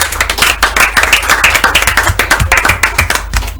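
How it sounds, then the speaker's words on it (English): Dense, steady clapping from a group, many hands striking in quick irregular rhythm, fairly loud and close, with no talking. "Come and clap for yourself."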